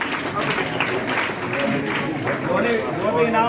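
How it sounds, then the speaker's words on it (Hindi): An audience applauds at a children's prize ceremony, a steady wash of clapping from a crowd that carries on beneath a voice. "तालियां बजती रहनी चाहिए बच्चे"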